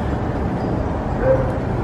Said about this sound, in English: I wish the dog would stop.